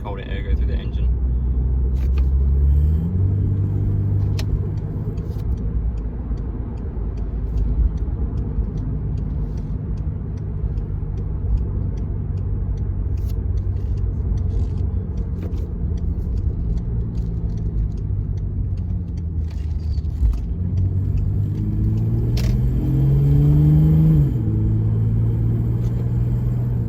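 Car engine fitted with a cold air intake running with a steady low rumble throughout, rising into a couple of revs toward the end, with a person talking over it.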